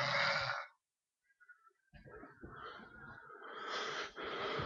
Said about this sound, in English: Lay back down. Quit snoring.